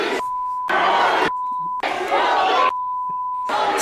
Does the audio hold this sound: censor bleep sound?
yes